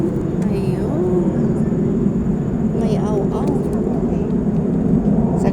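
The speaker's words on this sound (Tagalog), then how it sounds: "Nangingay ng eroplano sa taas." A passenger airplane passing overhead beside Lake Swan, a steady low drone running throughout at moderate level, mixed with soft outdoor ambience and occasional faint bird chirps; a person talks over it.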